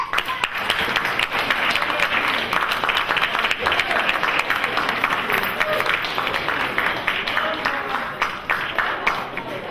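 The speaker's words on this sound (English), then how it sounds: "give all of your friends, loved ones, colleagues a round of applause for supporting you over these years" Sustained applause from a graduation ceremony audience, a dense, steady wash of many hands clapping at close range throughout, with faint crowd murmur beneath and no clear speech.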